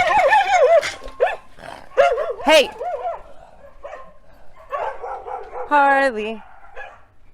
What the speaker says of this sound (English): Deep breath before he barks.